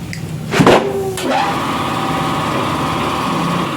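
At a tire shop, an air compressor blows air into a tire: a brief loud burst, then a steady, close droning hum with a hissing edge that holds to the end.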